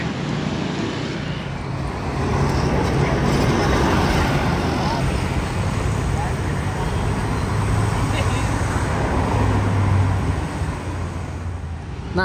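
Steady road traffic on an Indonesian street, with engines and tyres rumbling close by as an angkot minibus passes, a continuous loud wash of vehicles with a low engine hum. Voices are present under the noise.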